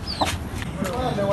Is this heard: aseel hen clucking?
yes